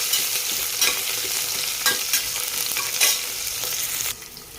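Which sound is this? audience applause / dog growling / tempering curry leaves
tempering curry leaves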